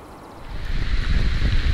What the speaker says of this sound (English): oh, it's a bit windy now